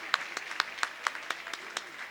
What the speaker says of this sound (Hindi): थोड़ी सी ताली हम बजा सकते हैं।